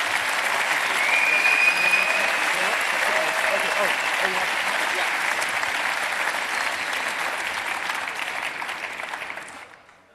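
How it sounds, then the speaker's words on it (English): A conference audience gives a speaker a long, loud welcoming round of applause that holds steady for about nine seconds before fading out. "Give him a huge round of applause."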